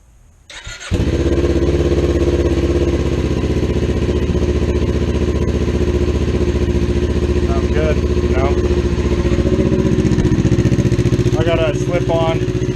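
A Kawasaki Ninja 400 with a slip-on exhaust cranks and fires up after a brief quiet moment, then settles into a steady loud idle that runs on.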